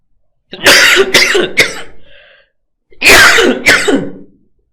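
A person coughs hard in two bursts, a quick run of three harsh coughs followed by a faint wheeze, then a pause and another loud double cough, close and with no talking.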